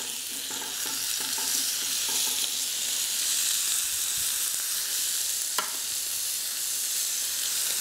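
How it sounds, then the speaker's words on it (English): Lamb chops seasoned with sea salt crystals and black pepper sizzle on a hot griddle, a steady close frying hiss running throughout with faint stirring clicks and one brief sharp crackle. "just carefully lay the chops on the griddle"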